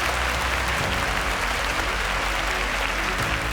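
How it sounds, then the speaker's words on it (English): Studio audience applause on a televised children's science quiz show, a loud, continuous roar of clapping from many people at close range, sustained evenly from start to end. "A round of applause for that."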